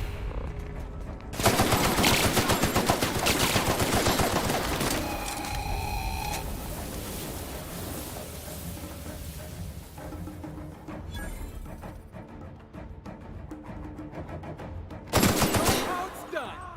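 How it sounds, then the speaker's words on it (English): Sustained bursts of gunfire in The Outer Worlds video game, a long loud volley of rapid shots followed by quieter ambient combat sounds and a second sharp burst near the end. "Returning fire!"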